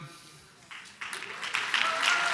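Applause from an audience at a forum on overcoming political tribalism starts sparse and builds into fuller clapping that grows louder toward the end.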